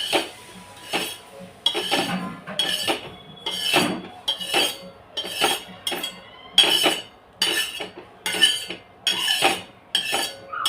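Roasted poppy seeds are scraped out of a pan with a spoon, giving a series of close, rhythmic metallic scrapes and clinks that repeat about every second, with no one speaking.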